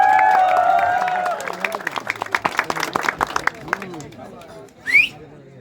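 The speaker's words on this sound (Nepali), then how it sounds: "सबैले एकबार जोरदार तालीको साथमा मलाई सम्मान गरिदिनु" At a sports prize distribution, an audience breaks into applause after a voice on a loudspeaker, with scattered claps building and fading over a few seconds and a sharp whistle near the end.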